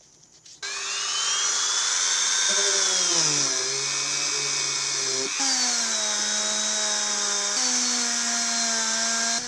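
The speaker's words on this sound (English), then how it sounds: "All degreased, and now I can wire wheel it." A Dremel wire wheel runs steadily on degreased Briggs and Stratton 450e engine parts, a loud continuous high-pitched whine whose pitch dips and rises as the brush bears down on the metal, with no talk.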